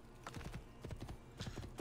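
A horse's hooves clip-clop in a steady trotting rhythm in Assassin's Creed II, faint and unaccompanied by speech.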